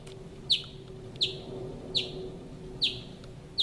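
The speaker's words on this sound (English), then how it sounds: "We'll see if you hear that bird." A single bird gives a sharp, bright chirp about every three quarters of a second, five calls in all, each clear above a steady low hum and outdoor background noise.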